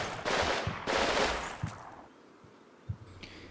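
Gunfire in the video game Combat Mission, with two dense bursts of rapid automatic fire followed by a few scattered single shots and quieter ambient noise. No one talks.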